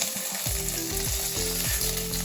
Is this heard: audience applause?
no